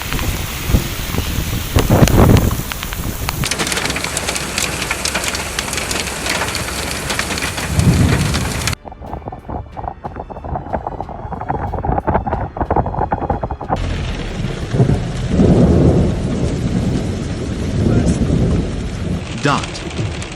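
Heavy rain pours steadily with rumbling thunder during a storm in the Gulf region, the downpour loud and continuous across several abruptly changing segments.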